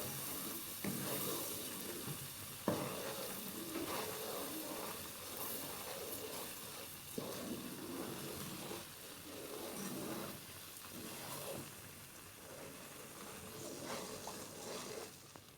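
Butter sizzles softly in a pan of cornmeal halva while a spoon stirs it, a steady low hiss with occasional scrapes, close and unaccompanied by talk.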